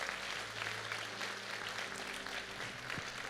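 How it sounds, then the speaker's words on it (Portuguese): A church congregation applauds, a faint, distant wash of many hands clapping steadily throughout, with a low hum beneath it. "Dê um aplauso a Ele."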